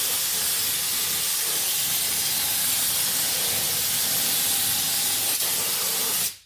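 A steady, close pressurized spray of oil-based undercoating onto a car's rear hisses continuously for several seconds, then cuts off abruptly at the end.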